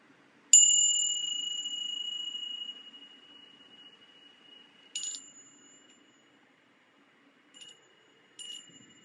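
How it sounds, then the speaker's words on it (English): Small meditation chimes ring out in a quiet room: one clear, sustained metallic tone decaying slowly, followed by three shorter, fainter strikes spaced a few seconds apart. "I have my little chimes here."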